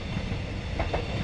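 A train rolling past nearby, a continuous low rumble with faint rhythmic clatter of wheels over the rails, heard briefly on its own.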